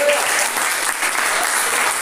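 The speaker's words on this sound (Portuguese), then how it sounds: "Pode aplaudir Jesus por isso" A church congregation breaks into loud, dense applause during a worship service, with steady clapping sustained throughout with no break.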